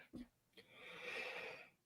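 A single person's sneeze on a live motorsport talk stream, a short breathy burst with a drawn-out airy release, fairly faint and close, with brief voice sounds around it.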